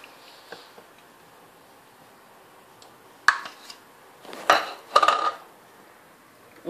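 Ice cream being scooped into a bowl for falooda: a few sharp spoon clinks and scrapes against the dish after a quiet start, closely heard with no talking.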